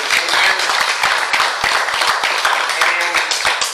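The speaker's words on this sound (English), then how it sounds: "Let's give the Lord another big hand clap of praise." A church congregation claps loudly and continuously in praise, a dense, lively burst of applause close by.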